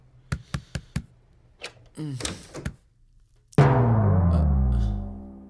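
Knuckles rap on a door in a series of sharp, close knocks, first a quick run of four, then a few more after a pause, followed by a scraping thud and a loud rumbling swell.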